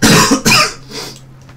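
A person coughing during a live tabletop role-playing game session: two loud, close, harsh coughs in quick succession, followed by a softer trailing rasp.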